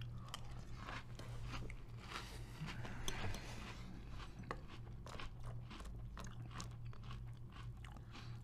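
Close, crunchy chewing of limited-edition chocolate Lucky Charms cereal in milk, with steady biting and mastication noises throughout and no talking.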